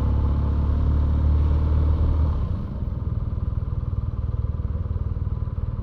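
BMW R nineT Scrambler 1200cc boxer motorcycle ridden, a loud steady engine drone that drops to a pulsing, rhythmic idle-like putter partway through, with no talk.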